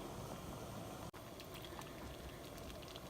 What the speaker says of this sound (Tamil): கம்பு சேர்த்து இப்போ 5 நிமிஷம் ஆயிடுச்சு. நல்லா கொதிச்சுக்கிட்டு இருக்குது